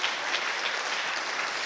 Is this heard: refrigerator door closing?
no